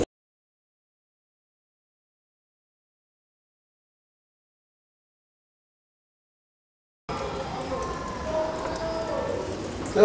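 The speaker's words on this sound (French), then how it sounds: "il pleut d'abord vraiment" Rain falls as a steady, even hiss that starts abruptly after a long stretch of silence and fills the last few seconds, with no one speaking.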